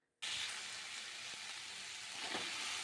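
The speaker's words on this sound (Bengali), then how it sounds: "এখন ঝিঙেগুলোকে ভেজে নিচ্ছি" Ridge gourd pieces fry in an unsalted pan, the loud sizzle starting abruptly and then holding as a steady, hissing crackle with a few small spits and stirs.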